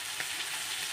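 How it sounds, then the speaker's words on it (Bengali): Chili-coated fish sizzling in hot oil in a home kitchen, a soft, steady hiss with faint crackles, brief and fairly quiet, with no talking. "দেখো লঙ্কা মাখিয়ে ভাজছি লাল লাল"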